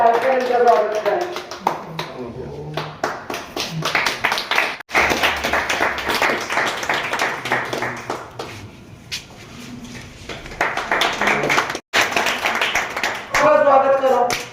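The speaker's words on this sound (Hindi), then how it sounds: "कृपया जोरदार तालियों से उनका स्वागत करें" Scattered clapping from an audience welcoming a legal advisor at a women's event in a park, rising and falling in bursts across the clip with people talking over it.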